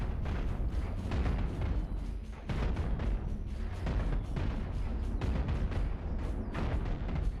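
Spaceship weapons fire in a Cosmoteer battle as a dense, continuous barrage of booming blasts and rumbling impacts, loud and layered with little pause.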